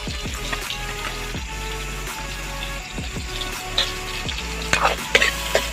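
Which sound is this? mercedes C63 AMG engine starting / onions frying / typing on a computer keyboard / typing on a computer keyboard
onions frying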